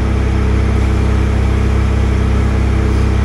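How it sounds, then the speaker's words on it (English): Air being pumped into a heavy-duty tractor tire, heard as a loud, close, continuous motor drone that holds steady throughout with no talking. "Now let's put air in this tire."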